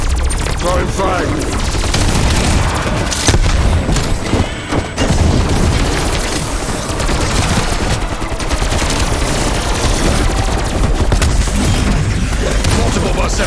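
Frag and Semtex grenade explosions in Call of Duty zombies co-op play, loud dense booms and crackling blasts layered over heavy continuous gunfire.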